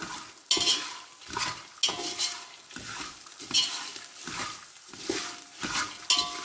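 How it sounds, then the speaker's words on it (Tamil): Garlic fries in oil while a metal spoon stirs it in the pan, producing a low sizzle broken by regular scraping and clinking strokes, close and fairly quiet. "நீங்கள் நல்லா வறுத்துக்கணும். பூண்டு பச்சை வாடை போகணும்."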